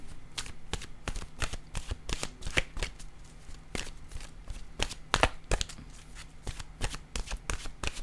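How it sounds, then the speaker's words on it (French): Oracle cards are shuffled by hand in a quiet room, giving a steady series of crisp slaps and riffling snaps at an uneven rhythm, close and fairly soft, with no talking. "Je vais piger une carte de mon oracle de l'âme intuitive."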